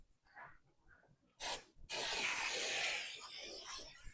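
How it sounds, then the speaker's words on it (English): Spray adhesive from an aerosol can hisses onto a board in two bursts, a short blast followed by a longer steady spray, close by, after some quiet speech. "some spray adhesive, and I'm just going to spray it onto the board"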